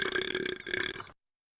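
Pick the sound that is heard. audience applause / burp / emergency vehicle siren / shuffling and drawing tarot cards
burp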